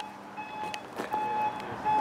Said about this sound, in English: Reversing sensors, as well as your camera, mean parking is very easy.